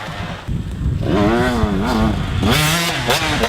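A 2017 KTM 125 SX two-stroke dirt bike engine rings out close and loud, rising and falling through quick revs with a buzzy, wavering pitch, and there is no speech.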